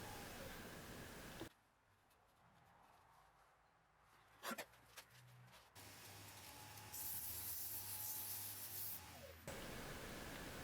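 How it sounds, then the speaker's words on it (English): Sandpaper is held by hand against a turned wood piece to clean up its surface. A soft, steady hissing rasp comes in stretches, separated by a quieter gap with a few faint knocks. "I'm just using a little bit of sandpaper to clean it up"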